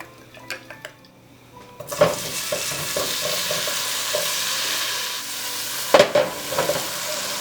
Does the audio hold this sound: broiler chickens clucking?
no